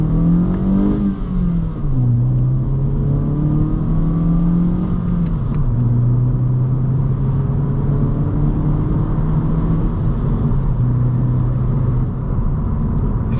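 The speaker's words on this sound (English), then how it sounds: "you're gonna be pretty let down with that induction noise that I just showed you" A 2022-2024 Honda Civic 2.0 engine with an OEM airbox mod, revving up and settling into a steady induction drone, close and continuous with a low rumble.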